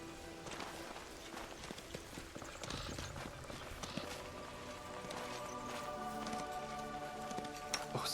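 Horse hooves clip-clopping in the fantasy role-playing video game Pathfinder: Wrath of the Righteous, a steady, quick run of light hoof beats over faint ambient game sound.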